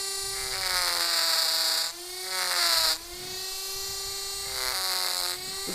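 A small rotary tool with an aggressive burr whines at a high steady pitch while carving a wooden wobbly top, its tone briefly dropping and rising as the bit bites into the wood in short bursts.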